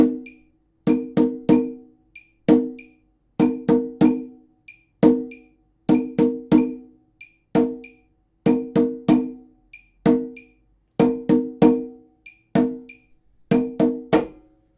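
Percussion plays a combined rhythm-cell pattern in repeating groups of sharp, close strikes with short pauses between them, steady and dry, with no voices.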